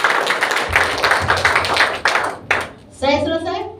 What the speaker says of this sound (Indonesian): Tepuk tangan yang terbaik.